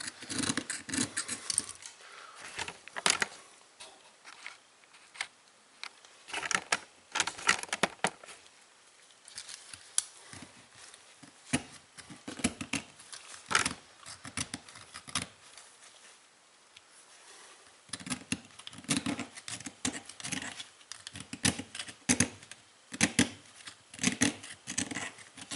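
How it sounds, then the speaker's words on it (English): A knife scrapes hard carbon deposits off the face and stem of an engine valve from a 1996 Geo Prizm's Toyota 1.6/1.8L engine, in irregular bursts of close, gritty rasping separated by short quiet pauses. "first I use a crappy knife to scrape off the really big chunks off the face. And off of the stem itself."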